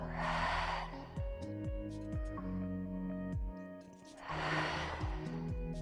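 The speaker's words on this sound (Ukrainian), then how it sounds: "Дих і видих через рот." Deep breaths drawn in and pushed out through the mouth during a breathing exercise, two long loud airy breaths, one at the start and one near the end, over steady background music.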